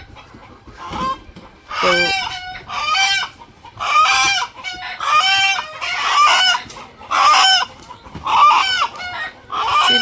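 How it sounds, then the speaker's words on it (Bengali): A farm rooster, just caught, clucks and squawks loudly and close in a run of repeated bursts with short gaps between them. One brief spoken word comes near the start. "এই যে মোরগটা ধরে নিয়ে আসলো"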